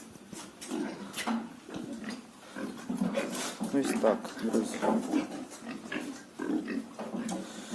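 Landrace pigs grunt and snort inside a pig farm barn in a run of short, irregular bursts, close to the microphone, while someone talks over them.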